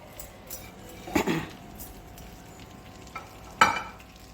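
Eggplant and fenugreek curry cooking in a pan, stirred with a utensil: a few scraping stirs and clinks over a soft, steady sizzle, close and fairly quiet.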